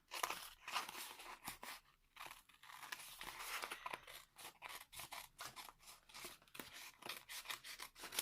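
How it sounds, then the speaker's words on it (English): Scissors snip repeatedly through paper and card while cutting out pieces for an afternoon tea craft kit, with close, crisp crunching cuts in an uneven rhythm and brief pauses between snips. "I need to cut these out"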